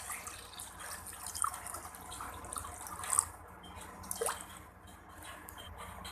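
Water is poured into a kadai while an Odia-style mustard drumstick and potato bhaji cooks, giving faint, scattered drips and splashes over a low, steady background hiss with no talking.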